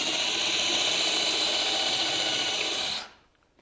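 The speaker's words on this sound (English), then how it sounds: "taking our drill bit of the same diameter, I'll just move in and just lightly penetrate" A power drill bores into a wooden router mortising jig base plate with a steady, loud high whine that stops abruptly near the end, heard close with no talk.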